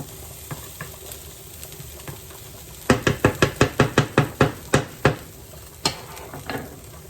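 Ingredients sizzle in a hot pan for sun-dried tomato spaghetti, a steady frying hiss beneath a run of about a dozen sharp, evenly spaced utensil taps against the pan, followed by a few scattered clinks.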